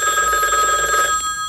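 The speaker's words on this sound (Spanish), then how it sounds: "Sí, me parece que suena el teléfono." An old-style telephone bell rings in a continuous bright trill for about a second, then cuts off, leaving a faint room hum.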